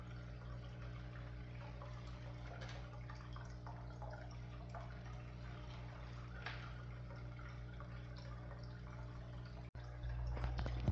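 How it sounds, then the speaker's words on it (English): Water runs steadily through a gold cleanup sluice while glacial river material is fed in, a continuous low wash and trickle with faint drips, staying even throughout and rising slightly near the end. "run some of this material and run through this cleanup sluice"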